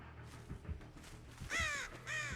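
Crows in a video game caw twice, loud and near, with harsh drawn-out calls and low game ambience underneath.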